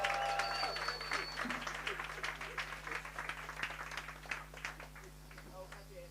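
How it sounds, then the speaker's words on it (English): An audience at a sales workshop and expo in Gugulethu claps steadily, dense and fairly loud at first, then gradually fading, with a low electrical hum underneath. "a round of applause for this gentleman"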